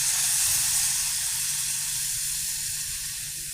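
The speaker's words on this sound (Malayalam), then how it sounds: "നമുക്കിനി ഇത് നന്നായിട്ടൊന്ന് മൂപ്പിച്ചെടുക്കാം ഇതിലുള്ള പുളിവെള്ളം ചേർക്കാം" Steady sizzling hiss of fish curry masala sautéing in a pan as tamarind water goes in, a continuous close frying sizzle with no talk.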